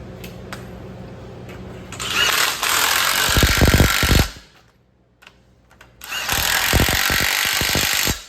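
Power tool running down fasteners, two loud whirring bursts a couple of seconds apart with sharp rattling impacts and a quiet gap between, close to the mic.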